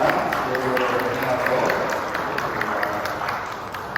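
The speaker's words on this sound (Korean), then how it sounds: "우리 잠깐 일어나시면 박수로 환영하겠습니다." A church congregation claps together to welcome newcomers at a Sunday service, a steady dense patter of many hands, close and continuous, with a few voices underneath.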